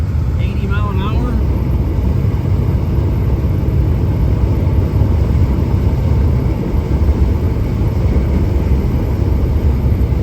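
Steady road and engine drone from inside a 1955 Oldsmobile 88 fitted with a 350 V8 and 700R4 automatic, cruising at 80 mph, a loud continuous rumble with wind noise throughout.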